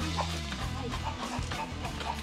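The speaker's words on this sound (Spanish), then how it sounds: "que son grandes las gallinas" Hens clucking in a farm coop where they come to lay eggs, several birds close by with busy, overlapping clucks over a steady low background hum.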